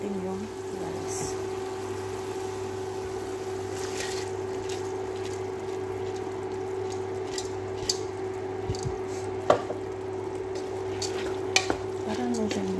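Rice sizzling in a hot frying pan as it is stirred, with steady frying crackle under repeated scraping and squishing strokes of the spoon and a few clicks against the pan.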